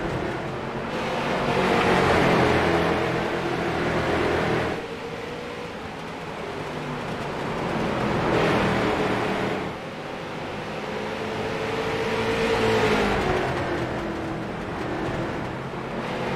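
Race cars circle an oval track at Southern National. Their engines swell in loud, roaring passes that rise and fade in long recurring waves as the pack laps by.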